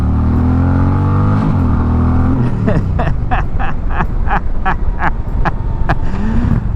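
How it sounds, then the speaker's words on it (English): A 2025 Indian Chieftain bagger, roughly 900 pounds, revs loud and close, its engine note climbing, then hard acceleration with rapid, rhythmic throttle pulses. "It's like a 900-pound bike, bro. Look at this. Whee! And just rip out of it."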